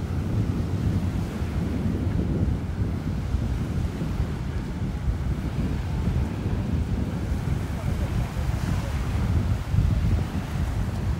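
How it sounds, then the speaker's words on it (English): Strong southwest onshore wind buffets the microphone on a North Naples, Florida beach, blending with the constant rumble and wash of breaking surf in a dense, unbroken roar. "I'm sure you can hear the wind."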